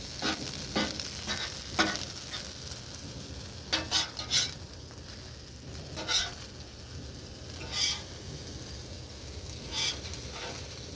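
Shrimp fried rice frying on a homemade hibachi griddle, a steady hiss of sizzling punctuated by several sharp metallic spatula scrapes and clacks at irregular intervals, close by with no talking.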